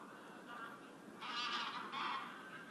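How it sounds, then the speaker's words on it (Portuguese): Geese honking in a wintering flock that came from north of the Arctic Circle, soft distant calls rising in two louder bursts over a quiet background. "Mas estes gansos chegam no inverno, porque não vêm do sul"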